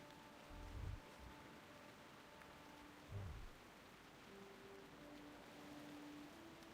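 Soft, steady rain falls in the rainy town of Theramore in World of Warcraft, a faint continuous hiss with a couple of low thuds in the background.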